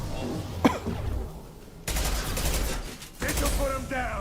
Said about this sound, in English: With how well I aim, I have no business using a Carnifex because I miss all my shots.